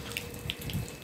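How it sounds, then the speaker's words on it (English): Water is hosed onto a shipping container in hot weather to cool it, a steady close splashing and rushing flow with a few bright droplet hits and no voices. "So we have to water the container to keep it"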